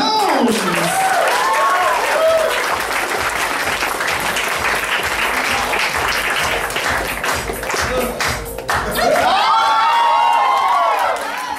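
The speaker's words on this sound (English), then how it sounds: "Please give your hands a little exercise" An audience at a comedy roast breaks into sustained applause with cheering and whoops, loud and continuous for several seconds, dipping briefly before a renewed burst of cheers.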